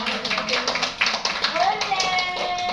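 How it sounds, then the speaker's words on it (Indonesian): Hands clapping in a group during an online teacher training session, a steady patter of claps with voices talking and cheering over it. "Tepuk tangan untuk kita semua."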